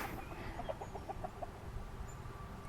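A soft run of chicken clucks, about seven quick notes, comes from a little distance over a low, steady background rumble.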